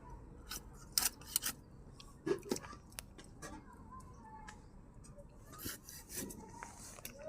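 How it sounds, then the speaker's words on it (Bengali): A knife cuts through a whole fish on a board, giving a run of short scraping, rasping strokes and a few sharp taps, close by and moderately loud, with faint background room noise between the cuts. "একবার ঝটপট কেটে নিল মাছ"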